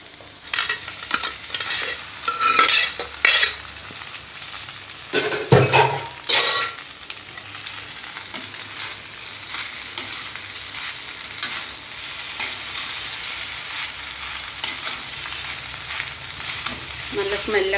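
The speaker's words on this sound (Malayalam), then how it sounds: "ഞാനത് ഈ മസാല ഉണ്ടാക്കിയതിലേക്ക് മിക്സ് ചെയ്യാൻ പോവുകയാണ്." Cooked pasta is stirred into a spicy masala in a pan. A spoon scrapes and clinks against the pan in bursts over a steady sizzle that fills the close, busy kitchen sound.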